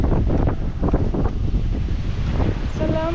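Strong wind buffets the microphone outdoors in Bali, making a loud, rumbling roar that gusts unevenly throughout. A brief faint tone rises near the end.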